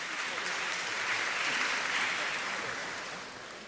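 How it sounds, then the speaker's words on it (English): Audience applause for the KwaZulu-Natal Premier at a matric results announcement, a sustained wash of clapping that swells and then gradually fades, with faint voices underneath. "Another round of applause for the Honorable Premier."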